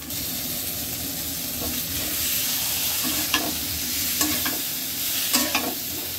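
Spices sautéing in a pan, a loud continuous hissing sizzle with occasional scraping knocks from stirring.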